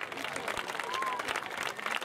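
Crowd applause at the final evening of a summer youth program, greeting three cooks called forward, a dense steady patter of clapping filling the space with voices mixed in.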